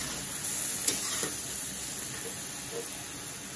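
Vegetables sauté in a pan in a home kitchen with a steady, close sizzle and hiss, joined by a few faint scrapes of stirring throughout.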